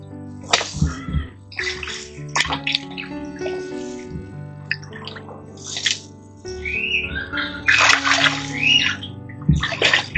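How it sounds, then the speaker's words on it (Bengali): Water splashes and drips in a basin as chicken meat is rinsed by hand, with intermittent sloshing and trickling, fairly close, along with a few background voices and clatter. "এই মাংসটা আমাদের সম্পূর্ণ ধোয়া শেষ"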